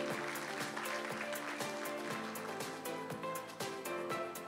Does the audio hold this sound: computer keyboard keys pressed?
no